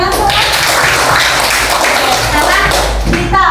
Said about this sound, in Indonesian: Ya, oke, tepuk tangan semua.